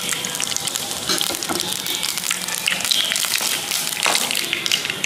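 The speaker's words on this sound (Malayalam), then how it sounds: "വെളിച്ചെണ്ണ ചൂടായി കഴിഞ്ഞിട്ടുണ്ടെങ്കിൽ കടുകിടുക." Mustard seeds crackling and spluttering in hot coconut oil, a dense continuous hiss peppered with quick popping ticks, close and fairly loud throughout, with no voices.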